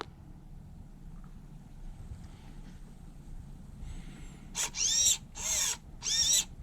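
An iTroll servo drives the throttle on a 2013-or-later Mercury outboard of 75 to 115 horsepower, giving a short whine followed by three brief mechanical buzzing pulses, close and fairly quiet after a near-silent start.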